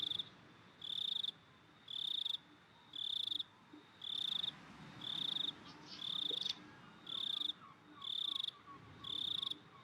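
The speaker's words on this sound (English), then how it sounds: "I'm not sure if these are cicadas in the background or something else" Cicadas chirping in the Higurashi video game, a loud high buzzing that pulses on and off in regular bursts about once a second over a faint background.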